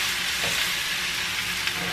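Shrimp frying in hot oil, giving a bright, steady sizzle with faint stirring scrapes, close and continuous, with no talking.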